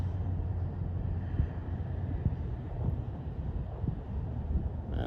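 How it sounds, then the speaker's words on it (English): Steady wind buffets the microphone outdoors during a small FPV drone range test, a low broadband rumble with gusty swells, fairly faint and continuous with no voices. "Fighting that wind."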